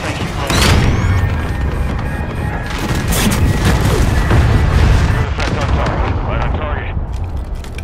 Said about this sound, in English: Trojan 6-2, cruise missile away.